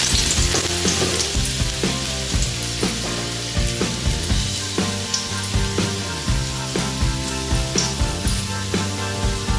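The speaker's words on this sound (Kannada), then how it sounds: "ಎಣ್ಣೆ ಬಿಸಿಯಾದ ನಂತರ ಇದಕ್ಕೆ ಬೆಳ್ಳುಳ್ಳಿಯನ್ನು ಹಾಕುವ." Garlic sizzles in hot oil for a Soya Chilli Manchurian, a steady crackling fry with regular stirring taps and a tonal hum underneath.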